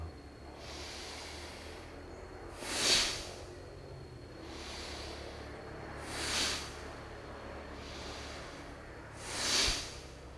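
Three slow, deep breaths taken during a breathing exercise for asthma relief, each a soft rising and falling airy whoosh spaced a few seconds apart, close and fairly quiet.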